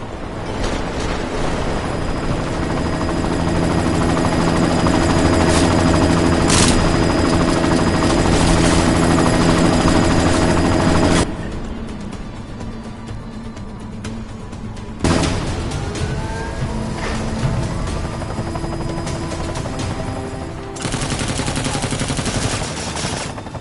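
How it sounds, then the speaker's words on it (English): A helicopter in a Resident Evil 2 game scene, a loud continuous rotor drone with heavy rumble, broken up by bursts of gunfire and abrupt shifts in intensity, no talking. "You've got to stop that chopper."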